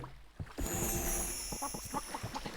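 A chicken in the game Simmiland clucks a few short, sharp notes over a constant hum of game sound, fairly close and with no voices in the clip.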